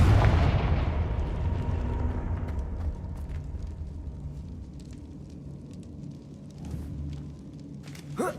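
A Confringo fire spell blast from the video game Hogwarts Legacy opens with a heavy boom that fades into a long crackling rumble, with small scattered pops as it dies away.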